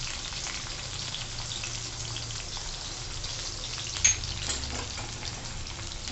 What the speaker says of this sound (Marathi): चांगली मिरची फ्राय होऊ द्यायची।